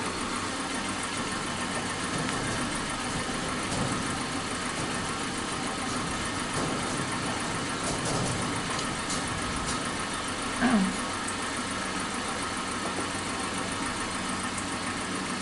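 A Suzuki Katana car engine idles steadily after an ignition timing adjustment, a close, even mechanical drone with a light rhythmic tick and one brief knock partway through.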